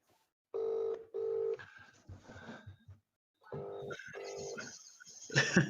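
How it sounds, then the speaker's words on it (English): Phone keypad tones beep in two short pairs over a loudspeaker, followed by a ringing tone and some faint background noise, heard while making a call. "I'm ringing him."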